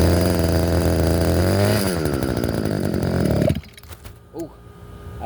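An old Ryan string trimmer's small two-stroke engine runs loud and close, revving with a shifting buzzy pitch, then cuts out abruptly partway through, leaving faint handling noises.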